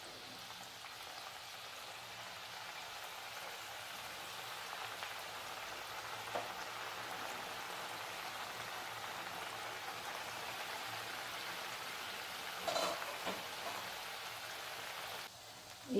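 Seeval dough squeezed into hot oil sizzles with a continuous soft, hissy crackle, fairly quiet and steady throughout, with a few faint clinks and no talk.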